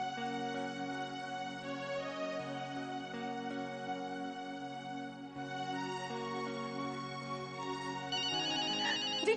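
A phone ringtone plays steadily on a call, a bright repeating melodic tone heard alone and close for several seconds, continuing without a break.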